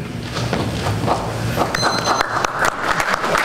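Audience applause at a Board of Finance public debate, a dense, steady clatter of many hands filling the room, fairly loud, with a few thumps mixed in and no clear talk over it.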